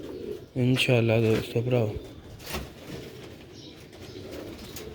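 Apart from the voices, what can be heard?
rooftop pigeons cooing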